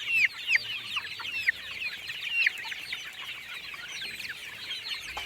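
Golden Misri and desi chicks on a Pakistani poultry farm cheep and cluck in a busy, overlapping chorus of short chirps, fairly close and continuing throughout without any talking.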